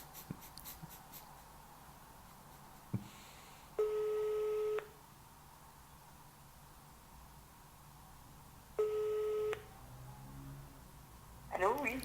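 Outgoing telephone call going unanswered: two long, steady ringback tones roughly five seconds apart sound over a quiet line, with a few soft clicks and handling noises in between.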